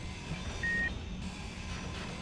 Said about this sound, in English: So that's the beep you need to listen out for when we're looking for a remote control block on a grid